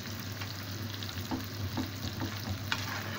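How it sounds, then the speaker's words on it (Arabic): Fava beans fry with chili in a pan, giving a steady close sizzle. A spoon scrapes and stirs through them with soft scraping taps. "واقلب الفول"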